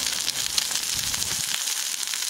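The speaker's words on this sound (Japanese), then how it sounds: "表面だけ焼いて、もう裏面焼いて、今度こそレア、いきますわ" Meat sears on a very hot pan over strong heat at a lakeside campsite cottage by Lake Kawaguchi, giving a steady, close, bright sizzle with crackling spits throughout.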